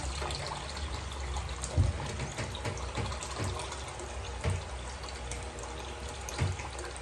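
Water is poured from a tap into a pot for fish soup with mixed vegetables, a soft continuous trickling splash with a few louder gurgles, fairly faint.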